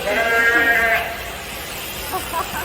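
A sheep bleats once on a farm, a loud, close, wavering cry in the opening second, followed by quieter background noise and faint voices.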